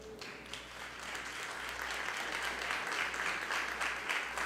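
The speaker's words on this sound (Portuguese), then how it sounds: "aplaudindo ao Senhor." A church congregation applauds the Lord together in a steady, dense wash of clapping that holds evenly for several seconds, with no one speaking over it.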